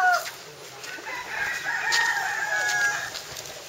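A rooster crows at a Bali market stall, alongside dyed pink chickens for sale, its call rising in long strained stretches against a busy outdoor background with faint clucking and no talk.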